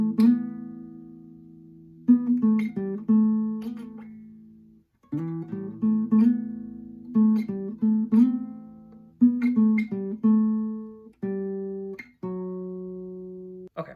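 Fingerpicked guitar solo from a song, live version, played alone with plucked single notes and sustained chords ringing out in phrases, close and clear with brief pauses between sections.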